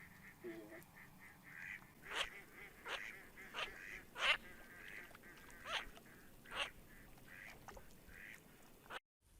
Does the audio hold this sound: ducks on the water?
yes